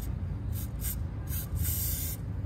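Spray paint hisses onto Ford Bronco wheels during a second coat. Several short and longer bursts sound close over a low background rumble.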